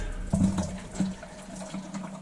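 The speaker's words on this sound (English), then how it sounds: "So now the water is released." Water gushes and splashes out of a freshly cut pipe at a Rheem hot water heater, a close, uneven rush that surges briefly and then settles into a steadier flow, with no voices.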